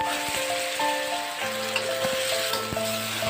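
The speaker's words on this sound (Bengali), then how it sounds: "এইগুলো দিয়ে এবার আলুগুলোকে ভেজে নেব" Potatoes fry in hot oil with whole cumin, garam masala and bay leaf, giving a soft, steady sizzle with occasional light clinks of a utensil against the pan.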